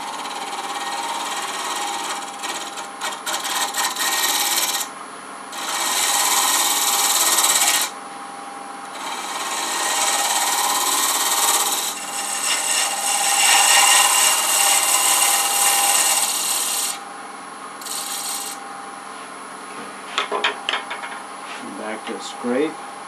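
Woodturning tool rounding over the top of a burl edged box on a lathe, with repeated rough scraping and rasping passes separated by short pauses, close and fairly loud with no talk.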